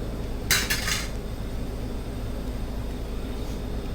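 Metal utensil clattering against a pot as creamy tom yum soup with shrimp is stirred at a Thai street food stall, a brief cluster of clinks early on under a steady loud roar of burner and background noise.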